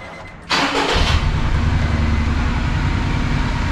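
A Honda N-BOX Custom JF1 with an engine fault and an unstable idle starts with a sudden crank and catch, then settles into a loud, close, rough-sounding idle that continues unevenly.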